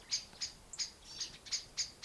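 Small birds chirp and sing outdoors in a fairly quiet natural setting, giving about seven short, bright calls at an even, repeating rhythm. They sound moderately close but soft, with no talking.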